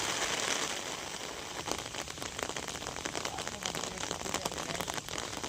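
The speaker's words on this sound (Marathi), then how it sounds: "पावसाचा पण स्पीड वाढला आता" Heavy rain pours down in a dense, steady hiss, with individual drops pattering sharply nearby.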